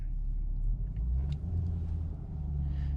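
A BMW 550i rear-wheel-drive car on snow tires accelerates slowly up a steep snowy hill, a steady low engine and road rumble heard from inside, fairly loud with no clear rise in revs.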